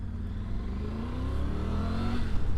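A Triumph Tiger Rally Pro motorcycle pulls away in first gear, its engine rising steadily in pitch as it accelerates, close and loud with no talk.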